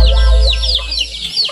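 Several caged chickens cluck and squawk up close, the quick, choppy calls overlapping above a low rumble.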